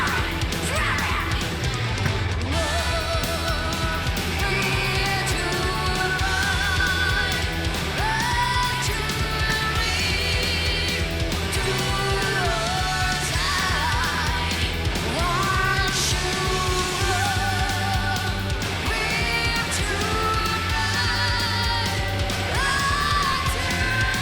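A heavy metal cover plays loudly and continuously with distorted guitars, driving drums and a raw screamed vocal with touches of growl cutting through the dense mix.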